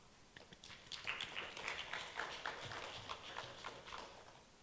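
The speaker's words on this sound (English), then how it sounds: "Please welcome him with a big applause" Faint, scattered clapping from a small audience at an international agriculture symposium, uneven hand claps that swell briefly to welcome a presenter, heard at a distance.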